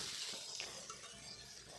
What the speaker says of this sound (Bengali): আমি এখানে হলুদ গুঁড়ো দিয়ে ভালো করে ভেজে নিচ্ছি